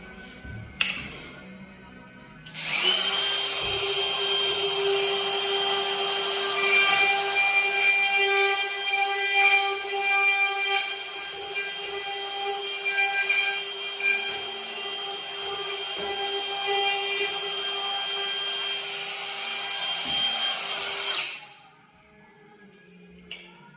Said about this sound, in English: Then just get a router.